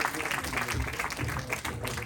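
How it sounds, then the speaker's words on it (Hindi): An audience at a music academy program claps, a continuous moderate patter of many hands with faint voices mixed in, filling the short stretch without a clear break. "तो इसके लिए तालियां बजाई जाए।"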